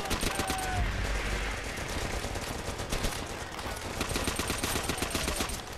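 Rapid automatic gunfire from the Call of Duty: World at War game rattles on in dense bursts throughout, loud and continuous, with game effects mixed underneath.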